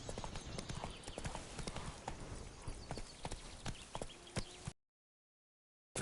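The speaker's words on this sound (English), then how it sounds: "Fast, Roach" Horse hooves trotting in the video game Witcher 3, a quick steady clip-clop rhythm close up with rustling ambience, ending abruptly in silence.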